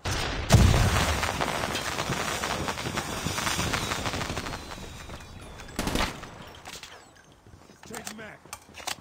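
A grenade goes off in Call of Duty Mobile, a loud deep thud early on followed by scattered gunfire and a second sharper blast, fading toward the end with voices talking over the action.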